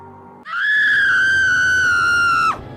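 A single loud, sustained scream from a dramatized horror story, near and alone, rises sharply, holds a steady shrill pitch for about two seconds and then breaks off abruptly.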